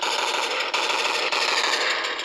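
An electronic chainsaw sound effect plays from the sound module of an MP-ZZ Nerf blaster: a loud, continuous, gritty buzzing drone that holds steady throughout with only two brief dips.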